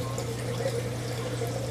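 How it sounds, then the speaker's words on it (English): Water spills onto a floor in a continuous, soft trickle and pour, steady and fairly quiet throughout the short stretch with no talking. "Yep, spilling water on the floor."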